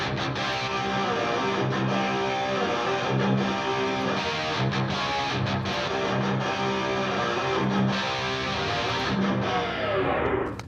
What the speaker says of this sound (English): I put a reverb on it, a room reverb